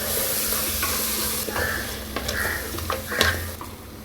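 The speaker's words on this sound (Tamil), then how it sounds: "இந்த மட்டனோடு சேர்த்து இந்த மசாலாவும் சேர்த்து கொஞ்சம் ஒரு 2 நிமிஷம் அப்படியே வதங்கட்டும்" Mutton with ground masala stir-fried in a pan, a steady sizzle under a low hum with a few spoon scrapes and light clinks toward the end.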